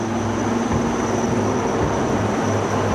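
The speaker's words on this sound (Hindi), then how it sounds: "दो advance light helicopter line astern formation में" Two Advanced Light Helicopters fly overhead in line astern during an Independence Day flag-hoisting flower-shower flypast, a steady loud rotor and engine drone with low throbbing beneath it.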